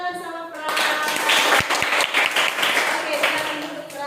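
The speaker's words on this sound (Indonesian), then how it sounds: "Berikan tepuk tangan sama Frans" Classroom of children clapping for a classmate named Frans after a morning prayer, a lively, uneven burst of close claps that starts after a voice and continues with chatter mixed in.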